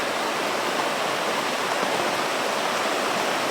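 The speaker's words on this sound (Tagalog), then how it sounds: "Bagyo naman." Heavy rain and rushing floodwater during a typhoon, a dense, steady broadband roar that stays loud and unbroken throughout with no voices.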